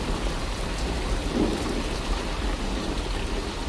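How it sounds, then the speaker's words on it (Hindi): Heavy rain pours steadily in a cartoon storm, with hail falling among it and low thunder rumbling underneath, a dense, continuous wash of sound with no voices. "कुछ ही देर में बारिश के साथ साथ ओले भी गिरने लगते हैं।"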